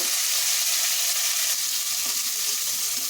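Prawns rubbed with salt and turmeric frying in hot mustard oil in a wok, a dense, continuous hissing sizzle, close and loud, holding steady throughout with no voices.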